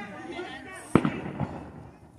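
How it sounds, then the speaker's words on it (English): A single firework pops outdoors during a solar eclipse crowd gathering, one sharp loud bang followed by a brief echoing crackle and a softer second burst, with faint crowd noise beneath. "Is that a firework?"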